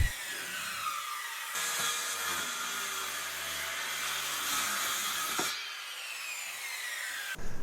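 A saw cuts through wood slabs to rough length, a steady loud grinding rasp running for several seconds, then stopping and starting again briefly at the end.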